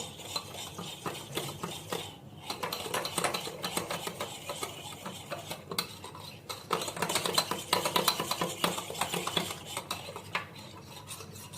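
A spoon stirs korma masala into a chicken curry gravy in a pot, making steady scraping, rubbing strokes against the pot that carry on through the whole stretch with no talking.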